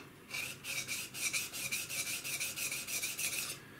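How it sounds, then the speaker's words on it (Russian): Sandpaper rubs a wooden surface in quick, even back-and-forth strokes, about a dozen rasping passes in a steady rhythm. The sound is close and alone. "То есть я при помощи шкурки снимаю это."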